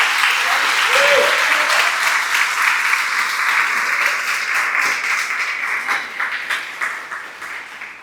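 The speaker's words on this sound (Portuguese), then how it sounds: "Dá um aplauso ao Senhor Jesus e dá um glória a Deus aí." A church congregation applauds steadily and loudly, a dense wash of clapping that slowly tapers off toward the end.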